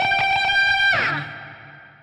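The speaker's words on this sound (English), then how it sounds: "He does these unison bends that go from the root up to the 5th" Electric guitar unison bends rising from root to fifth, a sustained held note that bends upward and then decays with echo, close and alone.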